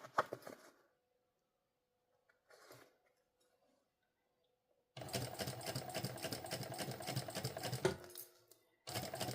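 A sewing machine stitches a sling pouch in short bursts: a brief run, quiet pauses, another short run, then a long continuous rattling stretch that stops briefly and starts again, close and clear with no voices.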